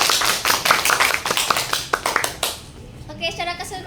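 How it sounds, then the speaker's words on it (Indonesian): A classroom of students claps for a classmate during a chemistry lesson, a dense burst of close hand claps that fades out after about two and a half seconds, with a voice speaking briefly as it ends. "Kita beri tepuk tangan untuk Yosi"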